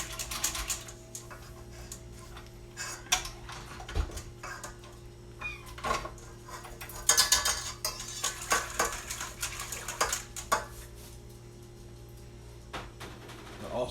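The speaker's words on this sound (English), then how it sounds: "Let me mix that up a little bit. Works better with a regular whisk." Bread ingredients are whisked in a bowl, giving quiet, irregular clinks and scrapes of metal against the bowl that come in short bursts over a low steady background hum.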